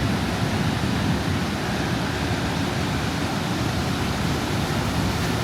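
Ocean surf at Padma Beach in Bali, between Legian and Kuta, rolls in as a constant broad hiss and rumble of breaking waves, with no voices above it.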